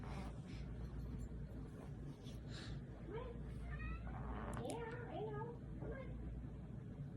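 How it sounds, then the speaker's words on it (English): An aunt in another room talks to the cat in a high, chattering voice, faint and distant over steady background hum, with a meow-like cry now and then mixed into her talk. "My aunt's talking to the cat right now."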